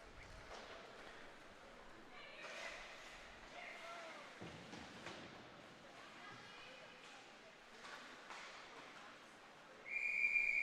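A referee's whistle sounds at a girls' U14 ice hockey game, one sharp shrill blast near the end over rink noise and skating, with a commentator talking throughout.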